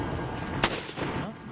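A single sharp rifle shot bursts out in the Resident Evil video game, set against a dense, rumbling game soundscape.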